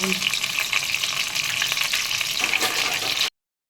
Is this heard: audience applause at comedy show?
no